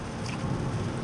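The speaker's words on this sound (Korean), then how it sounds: "갑자기 지금 빗방울이 떨어지는데" Rain patters steadily on a Hyundai Ioniq 5 electric car, a dense, even hiss of drops on the body with no voices.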